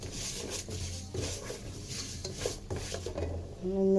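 A utensil scrapes and stirs vermicelli browning in a pot on a stove for Egyptian rice with vermicelli, soft rhythmic scraping and light clinks over a faint sizzle, ending in a brief louder clatter.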